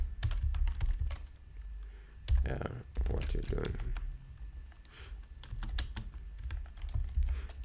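Close computer keyboard clatter from coding a password generator, with steady quick key clicks in bursts under someone talking.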